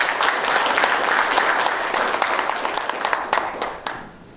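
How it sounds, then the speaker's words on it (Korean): Audience applause at a Korean forum on the labor rights of local delivery riders, a dense patter of many hands clapping steadily close by, then easing off toward the end. "여러분 힘찬 함성의 박수 부탁드리겠습니다"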